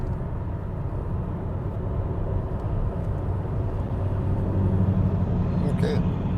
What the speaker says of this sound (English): That's a big Power Stroke diesel that just passed us.